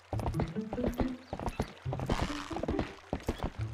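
Hooves of the horse Epona clip-clop in quick rhythmic bursts as Link rides her in the video game Zelda: Twilight Princess, close and loud with short pauses between strides.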